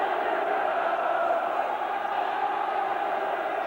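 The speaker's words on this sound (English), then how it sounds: "Lifted the crowd a bit." A football crowd at a Norwich FA Cup match gives off a broad, steady roar of cheering from a large stadium, sustained and distant-sounding throughout.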